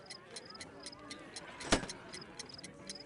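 A homemade bomb ticks steadily and quietly in a Sherlock Holmes game, its regular small clicks running evenly throughout, with one louder sharp click partway through.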